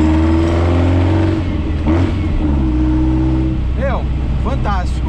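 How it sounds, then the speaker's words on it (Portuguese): A loud drag car engine revs hard with deep exhaust rumble, rising and falling in pitch, with a couple of sharp rev sweeps near the end. "o som desse escape"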